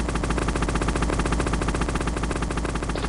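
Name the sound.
gunfire from an enemy in the video game Metal Gear Solid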